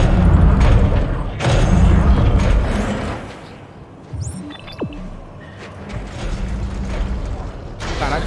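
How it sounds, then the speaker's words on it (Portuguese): A grenade explosion slowed by stasis in the Dead Space 3 video game: heavy booming bursts and mechanical clanks, a rising electronic sweep, then more rumbling impacts, with some voice in the mix. "a gente pode dar delay na explosão do nosso próprio canister"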